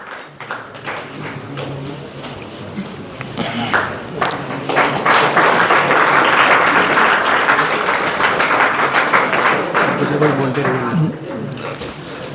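An audience at a talent-honouring award ceremony in Ayodhya claps, the applause swelling after a few seconds into a full, continuous round while a presenter's voice carries over it.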